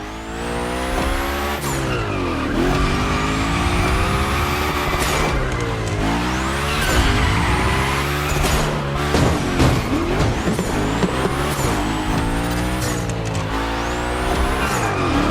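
Cars slide through Gymkhana runs in The Crew Motorfest, with loud continuous engine roar and repeated tire squeals over 15 seconds. The engine revs rise and fall in sweeping bursts, and no one speaks.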